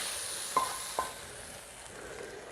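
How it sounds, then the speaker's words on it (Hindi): Butter tadka for daal sizzles softly and steadily in a pan, punctuated by two small clinks early on, with no talking. "बहुत सिंपल सा तड़का, बहुत मज़ेदार सा मक्खन का तड़का"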